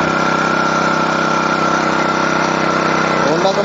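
A Honda GX engine powering an F300 power weeder runs at a steady, loud idle throughout, with a constant droning tone and a brief rise in pitch near the end.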